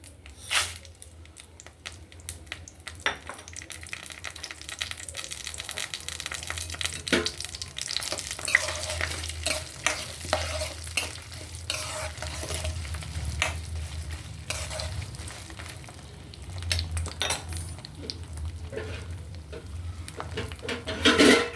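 Mustard seeds, cumin, urad dal, chana dal and garlic crackle and sizzle in hot oil with steady stirring and scraping, occasional sharper pops, close by and fairly loud throughout.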